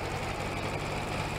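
A tractor engine straining under heavy load in the Farming Simulator 22 video game, a steady droning rumble with no breaks, moderately loud and heard alone.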